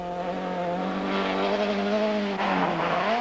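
A BMW rally car with a misfiring engine races past during the 2004 Tour Natal rally, its engine note loud and close, sliding in pitch as it passes with tyre noise.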